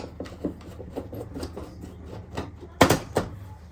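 Phillips screws are worked out of Hornby Dublo three-rail model railway track with a screwdriver, giving a series of close, quiet rasping and scraping turns, then a louder burst of scraping near the end.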